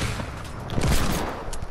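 Heavy sniper rifle fire in a video game, a dense booming blast with a rolling, sustained rumble that fills the whole moment, loud and close with no talk over it.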